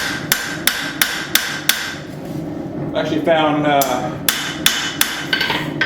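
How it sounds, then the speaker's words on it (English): Heavy hand hammer forging a knife blade on an anvil: a steady run of sharp, loud metallic strikes, a pause while someone speaks, then more evenly spaced blows resuming close by. "doing my heavier forging with the heavier hammer gets me there closer"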